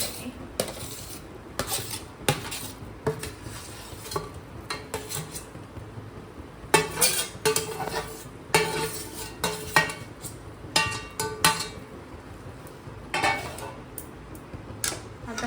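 Pav bhaji vegetables and masala being stirred and mashed in a metal pan, with irregular scraping and clanking of a utensil against the pan, some bursts louder and clustered, no talking.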